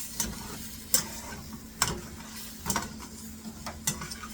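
A utensil stirring smashed eggs with potatoes in a hot pan: soft sizzle underneath with sharp, evenly spaced scraping clicks roughly once a second, close and fairly quiet.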